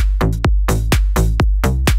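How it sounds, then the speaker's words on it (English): Classic deep house stab synth with a square-wave element, taken from the Roses sample pack, hits a syncopated pattern of short chord stabs over a thick low end, loud and without any talking. "more of kind of a classic, like deep house type stab"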